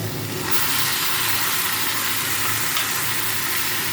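Potato, onion, garlic and chili sizzle steadily in a hot pan, a loud, close, continuous hiss of frying oil with no one talking.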